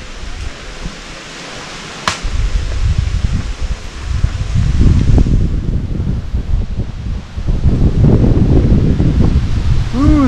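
Wind gusting through dense jungle foliage near a bamboo forest in Haleakala National Park, Maui, Hawaii, a steady loud rushing rustle that swells midway, with a brief sharp tone early on and no speech.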